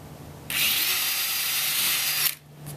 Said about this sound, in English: So I'll go ahead and drill these in this line right now, just as an example to show you.